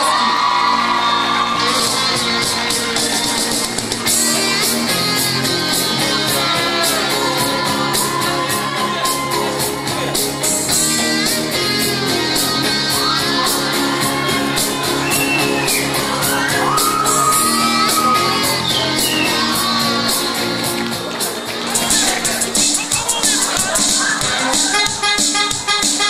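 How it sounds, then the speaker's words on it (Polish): An audience at a school pageant shouts, whoops and cheers loudly and continuously, with dense crowd noise layered over music throughout. "Oklaski."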